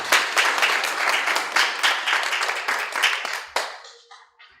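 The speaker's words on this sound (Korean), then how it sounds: "박수로 모시겠습니다." An audience at a Korean academic conference opening ceremony claps to welcome a speaker, brisk, dense applause that holds steady before thinning out and stopping near the end.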